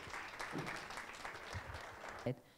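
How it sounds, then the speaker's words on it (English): An event audience applauds in a steady round of clapping beneath a voice, with a sharp thump near the end. "That is a huge round of applause."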